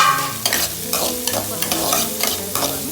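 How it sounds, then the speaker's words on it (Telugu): Onion and small green chillies frying in a pan, with steady sizzling and repeated stirring scrapes at close range. "ఉల్లిపాయ బాగా వాడుకోవాలి"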